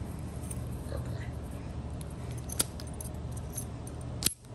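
Keys jangle while being unboxed for stock, a soft continuous metallic rustle close by, with a couple of sharper clinks toward the end.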